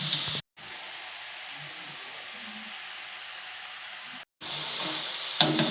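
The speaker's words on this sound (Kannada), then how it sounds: "ನೀಟಾಗಿ ಫ್ರೈ ಮಾಡ್ಕೊಳ್ಳೋಣ" Potato snacks fry in hot oil with a steady, even sizzle and hiss, broken twice by brief silent cuts, with a sharper crackle at the end.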